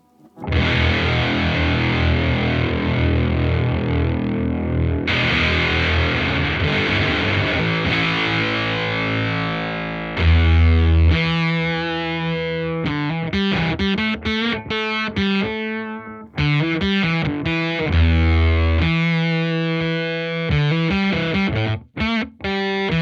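Heavily distorted electric guitar through a fuzz pedal, low gain, flat EQ, with a fuzzy, saturated tone, first a sustained chord wash, then choppy staccato riffs with sharp stops, loud and up close.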